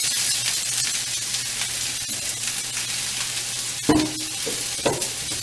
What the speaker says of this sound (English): And then we're going to add our chunks of Spam and green pepper.